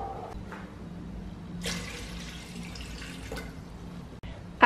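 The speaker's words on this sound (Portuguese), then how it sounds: "Vou colocar só mais um pouquinho de água." Water poured into a rice cooker pot, a brief splashing pour in the middle over a quiet background, with small drips and clatter before and after.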